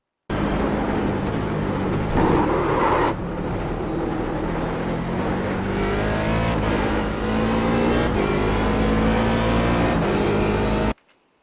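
A DP C7 race car engine at Sebring in a racing video game, roaring loud and steady under hard throttle, its pitch climbing and falling through gear changes, with a brief cut near the end.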